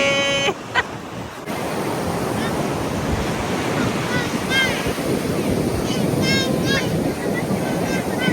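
Continuous surf rumble and wind buffeting the microphone on a sea beach, with faint voices and a few high calls in the background.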